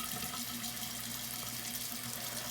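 Running water from a sink tap as a washcloth is rinsed and filled during a nighttime face-washing routine, a steady close hiss of flow that continues unbroken with no talking.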